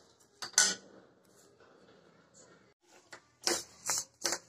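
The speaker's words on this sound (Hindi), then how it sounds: "हमारी दाल चिटकने लगी है" Moong dal roasting in a pan over gentle heat until light brown, giving off scattered sharp crackles and clicks that come in clustered bursts, with soft scraping from stirring in between.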